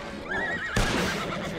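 A horse in the Red Dead Online video game gives a loud, close whinny lasting nearly a second, followed by a sudden thump and rumbling commotion.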